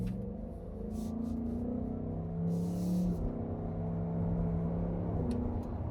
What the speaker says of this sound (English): We can give it some gas, see how it comes up to speed.